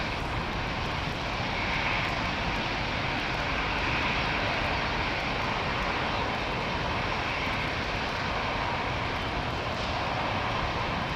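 A small helicopter flies near London Heathrow Airport, producing a steady, moderately distant engine drone that holds constant throughout without talking.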